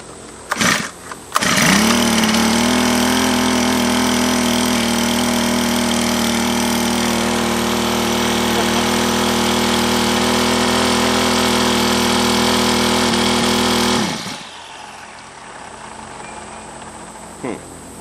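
A Honda GX25 four-stroke small engine catches after a brief pull and runs at a steady, loud drone for about twelve seconds before cutting out, with a few short knocks before and after.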